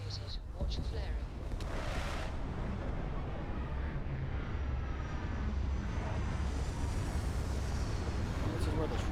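A spaceship lands in the Starfield video game, giving a steady, loud, continuous engine roar and rush that holds throughout, with a voice talking briefly over it.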